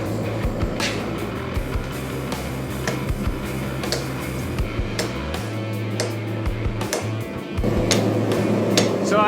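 A 3-pound Harbor Freight hammer strikes 1/4-inch square steel stock on a new anvil, with sharp, irregularly spaced clanks over a constant drone from a running forge.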